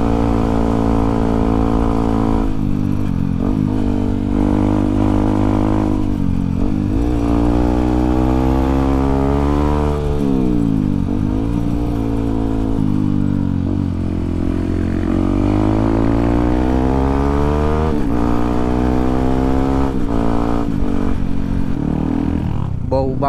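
A Yamaha WR155 motorcycle engine pulls uphill in fourth gear, a loud, steady mid-pitched drone with the pitch rising and falling as the load changes. It is close and continuous throughout, and a voice talks over it.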